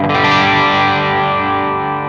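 A single sustained distorted guitar tone through a BOSS OC-3 Super Octave pedal, with a thick, doubled low octave underneath, ringing loud and slowly decaying.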